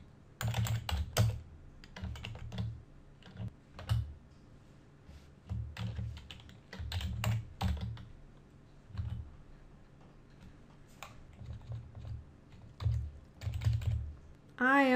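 Computer keyboard clatter while a script is edited, with bursts of rapid keystrokes separated by short pauses, close and fairly quiet, and a brief tonal beep right at the end.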